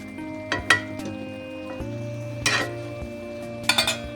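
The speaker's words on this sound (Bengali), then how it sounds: "এবারে এটাকে ভালো করে কষাবো। ভালো করে কষিয়ে চাপা দিয়ে দেবো এখন।" Paneer curry with chilli and salt being stirred and sautéed in a pan, with a soft sizzle under repeated scrapes and metallic clinks of a spoon against the pan, no voices.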